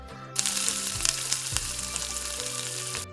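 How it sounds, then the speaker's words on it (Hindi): Finely chopped onions hit hot cooking oil in a deep pot, bursting into a loud, steady sizzle that starts abruptly and holds for a few seconds, close up, with no voices. "इसके बाद इसमें 5 अदद बारीक कटी हुई प्याज शामिल करेंगे।"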